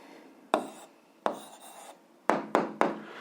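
Pen writing out an answer to an algebra exercise on paper: five short scratchy strokes, the last three in quick succession, close and clear with no talking.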